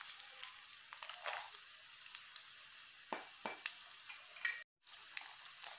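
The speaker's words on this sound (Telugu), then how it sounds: "రెండు టేబుల్ స్పూన్ల పచ్చెనగపప్పు వేయించుకున్నాం" Peanuts and lentils fry in a pan with a steady, close sizzle, broken by a few soft clicks and stirring scrapes and one brief dropout near the end.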